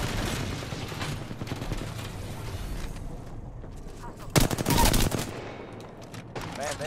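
Rapid bursts of gunfire from an Apex Legends match, automatic volleys rattling throughout with a loud, dense cluster near the end, under excited talk from players.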